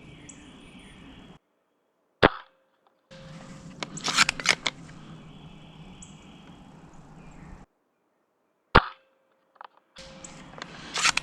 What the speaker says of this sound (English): We're just going to fire 2 rounds per shot here.